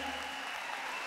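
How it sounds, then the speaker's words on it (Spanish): Audience applause for a performer on a talent show, a brief, steady wash of clapping at moderate volume with no distinct individual claps. "ese aplauso bien merecido a Jesús López"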